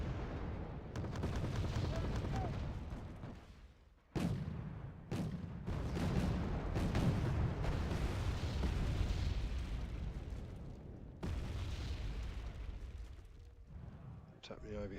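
Artillery fire and explosions from a military strategy video game keep up a dense, loud barrage of booms, with several sharp blasts standing out, in an unbroken battle din.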